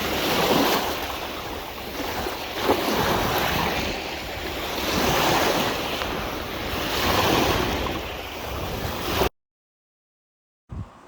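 Sea waves at a seaside shore wash in steady, surging swells with wind buffeting the microphone, loud and continuous before cutting to silence near the end.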